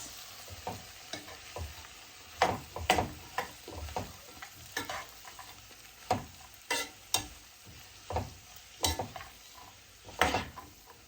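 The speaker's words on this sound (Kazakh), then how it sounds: "Мінекей жуамызбенен сәбізімізді жақсылап қуырып алдық." Onion and carrot frying together in a pot, with a close, rhythmic series of spoon scrapes and knocks against the metal roughly every second over a constant gentle sizzle.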